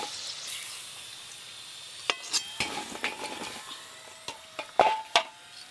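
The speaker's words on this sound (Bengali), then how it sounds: "একই রকম ভাবে প্রত্যেকটা চিকেনের পিস কিন্তু ভেজে নেব" Chicken pieces frying in oil for crispy chicken hiss softly while sharp clinks and scrapes of a utensil against the pan come in a quick irregular run, close up, with no talking.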